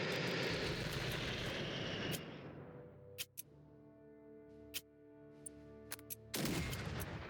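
Air bombing attack in the World War II strategy game Unity of Command 2: a roaring aircraft-and-explosion rush that fades, followed by a quiet tonal hum broken by several sharp isolated bangs, then another loud burst at the end.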